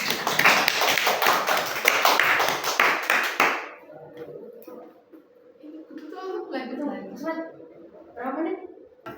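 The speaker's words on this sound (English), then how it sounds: "Give applause to me." Classroom applause, a dense burst of clapping from a group that lasts about three and a half seconds and then stops abruptly, followed by quieter murmuring voices.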